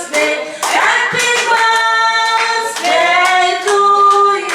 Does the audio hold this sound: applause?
yes